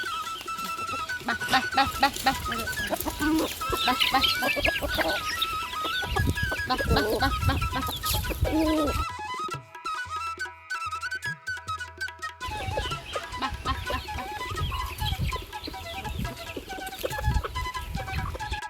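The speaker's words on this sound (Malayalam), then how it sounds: "അപ്പോൾ അതാ നമ്മൾ കുറച്ച് വലിയ കോഴികൾക്ക് കുറച്ച് ഇട്ട് കൊടുത്താട്ടോ" A flock of chickens clucks and squawks busily up close while being fed, with scattered rustling and pecking; a brief quieter gap before the clucking resumes.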